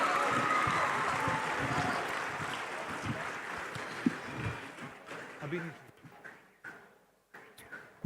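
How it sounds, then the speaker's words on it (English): Audience at the Global Spirituality Mahotsav applauding to welcome young musicians on stage, a dense wash of clapping that gradually thins and fades, with scattered last claps and some voices toward the end. "Please give them a huge round of applause."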